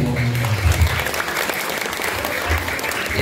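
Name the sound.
audience applause at a comedy show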